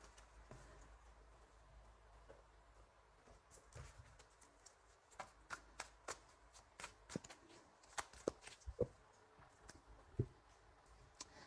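Tarot cards being shuffled by hand, soft papery riffles and taps at close range, growing into a string of sharper slaps and clicks toward the end with quiet pauses between bursts.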